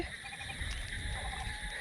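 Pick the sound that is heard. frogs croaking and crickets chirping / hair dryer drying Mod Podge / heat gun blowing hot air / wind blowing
frogs croaking and crickets chirping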